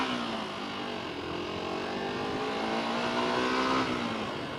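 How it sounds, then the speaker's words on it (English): A car motor revs steadily with a rising then falling whine, moderately loud and continuous throughout, with no talking. "Motor sound. What that is? Motor sound."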